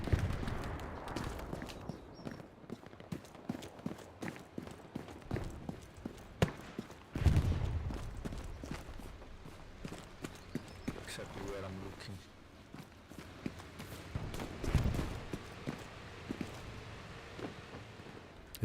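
Footsteps crunch in a steady rhythm during a competitive Hell Let Loose match near a church, a repeated close walking patter running under frequent talk and occasional louder in-game bursts.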